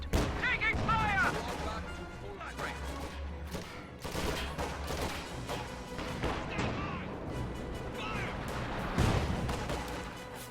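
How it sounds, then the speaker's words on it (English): Pack howitzer artillery rounds firing repeatedly in a World War II strategy game battle, heavy booming blasts layered with dense fusillade and background battle noise, with a voice speaking briefly amid the din. "Pack howitzer fires at his Volksgrenadiers."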